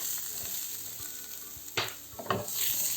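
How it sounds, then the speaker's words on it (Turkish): Eggplant pieces sizzle steadily in hot oil, with a few scraping stirs and clinks of a utensil against the pan, close and fairly quiet. "Çevire çevire hepsini kızartıyorum."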